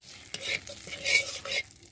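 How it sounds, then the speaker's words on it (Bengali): Whole cumin seeds and bay leaf sizzle in hot oil as a pulao is started, a crackling fry with stirring scrapes rising and falling, close and fairly quiet, with no voices. "এর মধ্যেই ফোড়নে দিয়ে দিচ্ছি গোটা জিরে"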